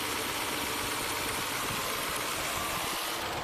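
A low-mileage car engine idles steadily after a cold start, a constant close rumble with a light mechanical rattle throughout and no voices.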